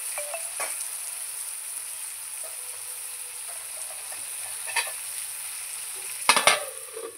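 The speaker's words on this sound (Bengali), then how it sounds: "আলু পেঁয়াজ আমি একসঙ্গে ভালো করে লাল লাল করে ভেজে নেব।" Potatoes and onions frying together in a pan while a fish curry with green chillies is prepared, giving a steady sizzle with occasional stirring scrapes and a louder clatter near the end, with no talking.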